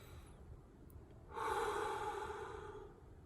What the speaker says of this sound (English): You remember breathing,